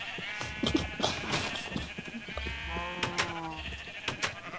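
Several blocky Minecraft sheep bleat in quick succession, the repeated wavering baa calls overlapping with game sound effects, fairly close and clear with no talking.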